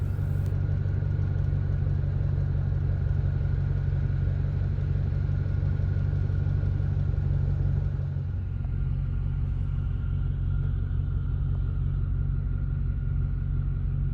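A Ford Mustang Mach 1 rumbles steadily from inside the car on an evening drive, its engine drone loud and continuous, easing slightly lower partway through.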